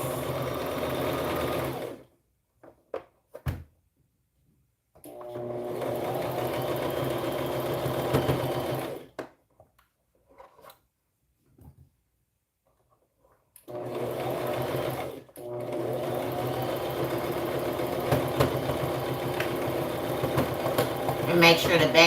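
A sewing machine runs in three bursts of steady stitching on preemie shorts, with back stitching at the start and end, separated by quiet pauses while pins are pulled out.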